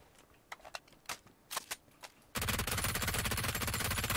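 Weapon fire from a P90 submachine gun in PUBG: a few sharp separate shots, then from midway a loud continuous burst of rapid automatic fire that runs to the end.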